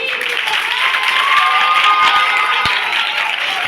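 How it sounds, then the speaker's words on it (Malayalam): An audience at a church vacation Bible school puppet show claps steadily, a dense wash of applause held at even loudness throughout, with faint crowd voices underneath. "എന്നിട്ടാണ് ഇങ്ങനെ കൈയടിച്ചേ?"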